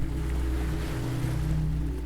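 Sea waves wash in a continuous, even roar over a low steady hum, close and constant with no voices, used as relaxing ASMR sea sound.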